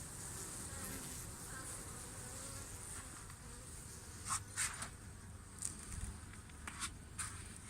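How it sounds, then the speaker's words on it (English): Bees hum in a low, faint buzz around a heated beehive after winter, with a few sharper, brief buzzes of individual bees passing close by in the second half. "As you can see, the bees are killing me."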